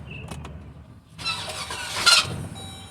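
A 2014 Jeep Grand Cherokee with a new starter cranks against a locked-up engine: a few faint clicks, then a loud grinding, squealing crank lasting about two seconds without catching.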